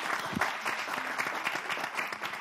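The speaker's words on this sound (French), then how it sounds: "Déjà, applaudissez pour ça." Steady applause from an audience fills the whole stretch, dense and even clapping at moderate volume, with a brief low thump near the start.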